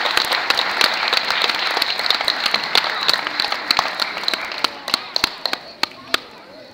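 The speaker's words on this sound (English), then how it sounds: "Let's give our kindergartners one more round of applause for all of their hard work." An audience at a kindergarten musical gives a full round of applause that thins over several seconds into scattered, sharp individual claps, with a few voices faintly beneath.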